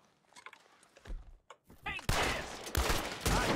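Gunshots in the Western video game Red Dead Redemption 2: a few sharp cracks and thuds early on, then a burst of loud, ringing gunfire and rumble that fills the last second and a half, with brief voices mixed in.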